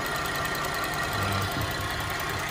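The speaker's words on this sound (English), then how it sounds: "If you hear any noise, that's that high pressure fuel system." A GM 3.6 V6 in a Buick Enclave runs after a timing chain job, its high pressure fuel system adding a steady ticking clatter over the smooth, close idle.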